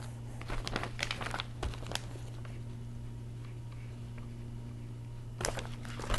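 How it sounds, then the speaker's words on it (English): Masking tape peels away from the protective cover on an Acer Aspire 5551 laptop screen, giving crinkly tearing and crackling in short bursts near the start and again at the end over a steady low hum. "remove the masking tape that holds this protective cover on"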